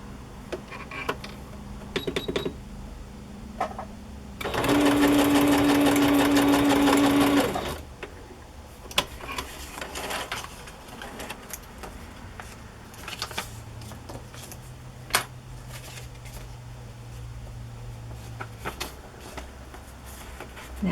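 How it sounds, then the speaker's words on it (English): A sewing machine stitches lace onto a fabric-covered journal in one loud, steady whirring burst of about three seconds, set among quieter handling clicks and rustles of fabric. "So I'm going to sew that part on first."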